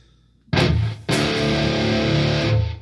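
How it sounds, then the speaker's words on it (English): A Firefly SG electric guitar run through heavy distortion: two loud sustained chords strike in quick succession, the second ringing on thickly before starting to fade. "A little more distortion."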